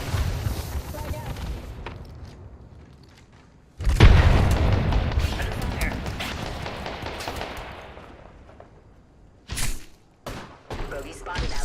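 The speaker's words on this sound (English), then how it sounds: "Fox 3, firing missiles." Missiles fired and explosions in a space combat video game, heavy booming blasts and rapid gunfire, a big explosion swelling then fading, followed by sharper bursts near the end.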